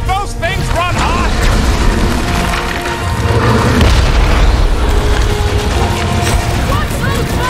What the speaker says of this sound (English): Watch those bombs!